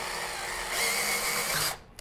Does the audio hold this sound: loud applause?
no